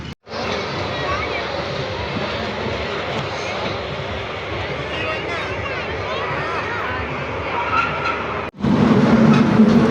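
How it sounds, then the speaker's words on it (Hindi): A small park ride train rolls along with a steady, loud rumble that fills the scene, and voices talk over it throughout. "ये अब हम ट्रेन में बैठ चुके हैं।"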